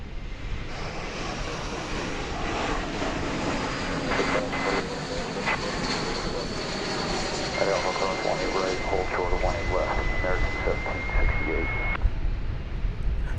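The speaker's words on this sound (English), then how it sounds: "This American Airlines Airbus A321 coming in from Las Vegas." An American Airlines Airbus A321 arriving from Las Vegas lands at DFW Airport, a steady broad jet roar with a rising whine that holds throughout, with a voice talking over it.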